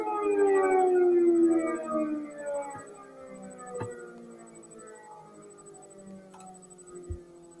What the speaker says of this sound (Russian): Потом включишь сирену